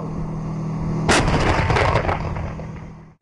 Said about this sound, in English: Fire. The sound of explosion.